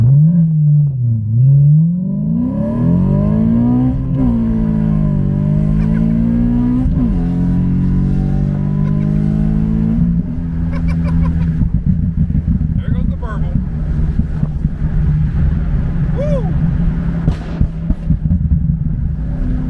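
A BMW E93 M3 convertible's V8 revs hard with traction control off, its engine note climbing and dropping through several pulls before settling into a loud rumbling roar, close and dominant with a voice talking over it.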